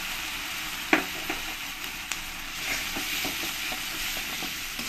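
Spoon stirring chili powder and ground spices into ginger garlic paste in a hot oiled pan, with a continuous sizzle and a few sharp scrapes and clinks against the pan.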